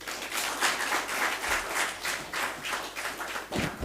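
Audience applause breaks out after a Kannada poetry reading at an evening of Kannada poetry, a steady, dense patter of many hands clapping that carries on evenly throughout, with no voices.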